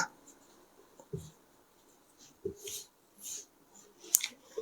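Marker strokes on a whiteboard during a Bengali lecture on criminal courts, a few short scratchy bursts separated by quiet gaps with one sharp tap, faint and close.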